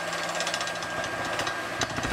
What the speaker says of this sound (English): The drilling begins to the compact dirt overlaying the limestone.